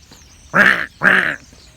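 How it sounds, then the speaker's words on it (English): Two loud harsh bird calls, a duck-like quack pair, close by during an outdoor walk in Germany, each about a third of a second with a short gap between. "Yeah, there's a bird here."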